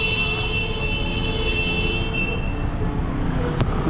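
Busy street traffic in Macau gives a dense, continuous roar of passing cars and buses, steady and fairly loud, with a faint horn toot near the end and no voices.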